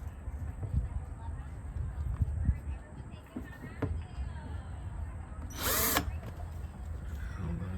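A power drill whirs briefly in a short high burst partway through, drilling an olive barrel for a rain barrel, with people talking and handling noises around it.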